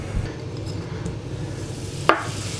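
Butter hits a hot pan and sizzles faintly and steadily under a quiet stir. A single sharp clink of utensil on pan rings out near the end.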